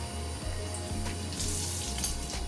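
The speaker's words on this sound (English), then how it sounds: "then you pour the milk in here" Milk streams steadily into blended mango in a kitchen, a continuous close pouring and watery rush lasting the whole moment without any speech.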